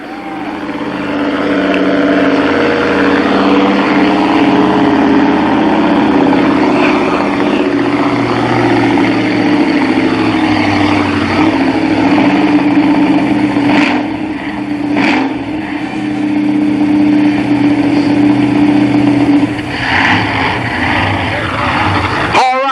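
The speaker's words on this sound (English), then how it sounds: "Sweet sounding Chevrolet big block music here." Chevrolet 454 big block monster truck engine at a motor speedway event, a loud sustained roar with rising and falling revs throughout, sharp bursts near the end and a crowd faintly underneath.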